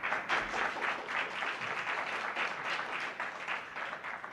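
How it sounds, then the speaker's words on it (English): Faint, steady applause from an audience after a keynote at a tech summit, continuous clapping heard at a distance without talk. "Let's give him another round of applause."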